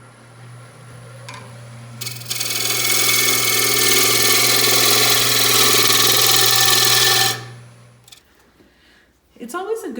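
A wood lathe spins a cedar container while a gouge cuts into it, making a loud, steady, hissing scrape over a low motor hum for several seconds before it stops, with a voice nearby.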